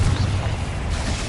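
Confringo fire spell blast in the Hogwarts Legacy video game: a short, dense, booming rumble with heavy low-end weight, steady and loud throughout, with no voices.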